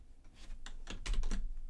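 Quick bursts of keystrokes on a computer keyboard as a short word is typed into a filter field, close and clear with no talking.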